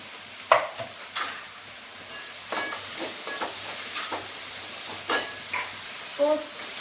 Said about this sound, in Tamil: இப்போ வந்து காய்கறி எல்லாத்தையும் போட்டு கேப்சிகம், பீன்ஸ், கேரட்டு,